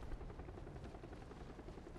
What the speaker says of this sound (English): There's another chopper.